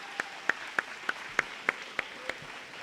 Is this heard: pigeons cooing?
no